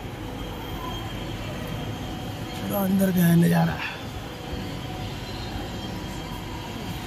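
Train at Ayodhya Dham railway station, a rumbling passage with a rising swell and a brief tonal horn or brake squeal midway, heard under someone talking amid steady station noise.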